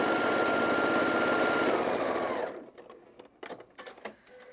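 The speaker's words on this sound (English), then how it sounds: "you're just gonna sew these on all the way across" Sewing machine stitching a quarter-inch seam across a quilted table runner, a loud, steady close-up whir that stops abruptly partway through, leaving faint clicks and handling noises.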